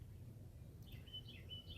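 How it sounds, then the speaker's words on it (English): Birds chirp faintly outdoors in the countryside on a chilly, overcast morning, a few quick high tweets arriving after a moment of low background hum. "the birds are chirping"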